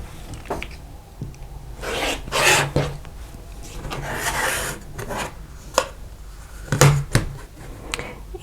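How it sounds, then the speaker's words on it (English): Scissors or a rotary cutter slicing the selvage off quilting fabric for quilt blocks: several short rasping cuts in separate bursts, close up, with no voice. "So I'm going to cut off the selvage."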